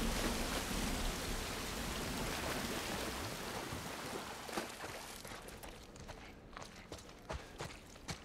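Steady rain falling in The Last of Us Part 1, a broad hiss that thins out toward the end, giving way to scattered nearby drips and footstep-like taps.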